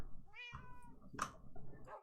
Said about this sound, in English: How many of you guys know this about cats in Minecraft?